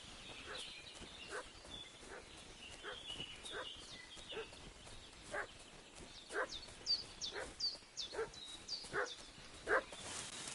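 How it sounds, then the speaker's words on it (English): A dog barks repeatedly in Kingdom Come: Deliverance 2, the sharp yelps spaced unevenly over a rural outdoor ambience, growing louder and more insistent toward the end at moderate distance. "What's that dog making such a fuss about?"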